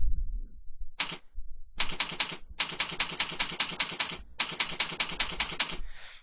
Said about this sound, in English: you can just type in a username and password